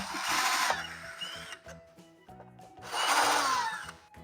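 Screws and wires being loosened on a water heater's circuit breaker, heard as bursts of whirring, grinding tool noise with small mechanical clicks and rattles, loud and close, with a quieter stretch in the middle.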